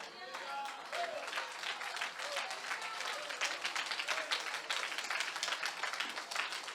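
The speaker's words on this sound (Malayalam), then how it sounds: "ಬೇಕಾದ್ರೆ ಕೈ ತಟ್ಟರೆ ಸಾಕು" A church congregation at a conference claps hands together, a dense patter of applause running steadily throughout at moderate distance.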